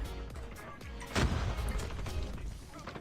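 Gunfire from the XPR rifle in Call of Duty Mobile: a sharp single shot cracks at about mid-clip and is followed by a rumbling decay, with a few fainter game sounds before it.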